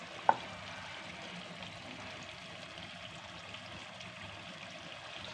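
Chopped ginger dropped into karahi gosht in a pan, giving a steady soft sizzle and frying hiss throughout, with one brief sharp clink near the start.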